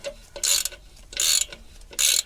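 A torque wrench ratchets on the clutch bolts of a Ford ST220 during a clutch and gearbox replacement: three short bursts of crisp rapid clicking with brief pauses between them, close and clear, no voices.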